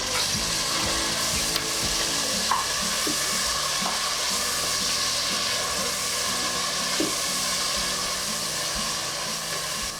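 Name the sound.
frying tomatoes, green chilies and spices for mutton biryani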